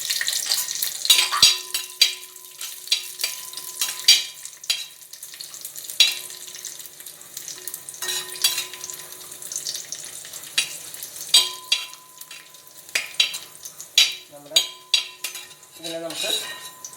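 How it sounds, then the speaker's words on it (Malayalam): Raisins fry in hot ghee while ash gourd payasam is being made, giving a steady sizzle under repeated clinks and scrapes of a metal spoon stirring against the pan. "മുന്തിരി ഇത് രണ്ടൊന്ന് വറുത്തെടുക്കാം."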